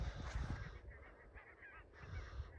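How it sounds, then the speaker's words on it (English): Barnacle geese honk as they come in to land, a loose run of nasal calls heard at a moderate distance over faint outdoor background. "you can see the geese coming into land there"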